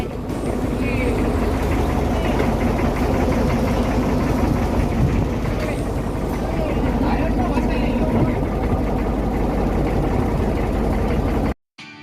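A pompong wooden passenger boat's engine idles steadily on choppy water on the crossing to Pulau Penyengat, a continuous low rumble at close range with no break until it cuts off abruptly right at the end.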